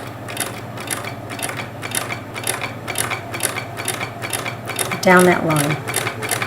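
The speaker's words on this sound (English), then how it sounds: "now I literally just start sewing carefully and slowly like this" Sewing machine stitching fabric for a gnome, a fast regular clatter of needle strokes running steadily and close, with a brief voice speaking near the end.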